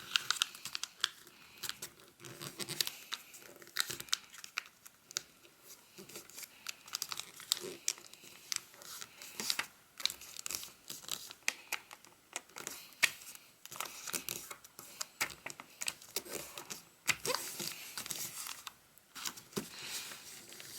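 Paper is being creased and folded into an origami hummingbird. Soft crinkling, rustling and crisp taps run continuously and up close, with no one talking.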